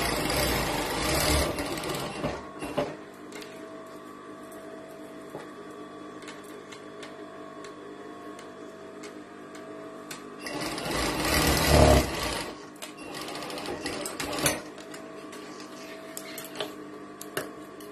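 Sewing machine stitching two pieces of fabric with padding, running in two bursts near the start and again around the middle, with a steady hum and fainter mechanical ticking between them.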